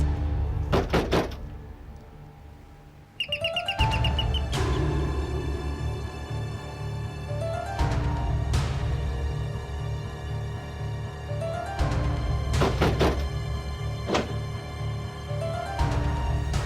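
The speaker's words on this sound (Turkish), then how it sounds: "O kadar vuruyorum. Kapıyı neden açmıyorsun?" Knocking on a door in a Turkish TV drama comes as clusters of sharp, close raps that recur among loud, sustained dramatic music tones.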